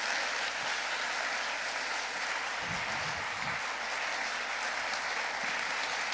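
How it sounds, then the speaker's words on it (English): A panel forum audience keeps up a steady round of applause, dense and continuous throughout, with a few louder bursts of clapping partway through. "So let's give a huge round of applause."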